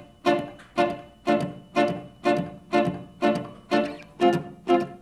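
Swing-style guitar strumming on the upbeats only, ten short crisp chord strokes in an even steady rhythm, played alone and up close.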